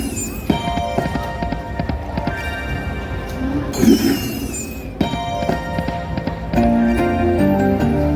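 Clip-clop horse hooves from a casino slot machine game, a quick galloping patter woven into bright electronic chimes and tones, with a steady background hum.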